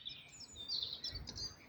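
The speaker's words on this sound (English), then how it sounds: "There's birds chirping." Faint, high bird chirps come in scattered short calls over a quiet outdoor background with a low rumble.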